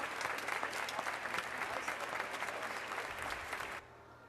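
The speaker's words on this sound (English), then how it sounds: "Let's give them a big round of applause." A large audience at Sindhi P.U. College claps in a big sustained round of applause for the students, dense and even, then cuts off abruptly near the end.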